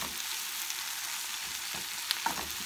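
Spinach sautéing in a pan gives a steady close sizzle throughout, with a couple of brief sharp clicks near the end and no voices.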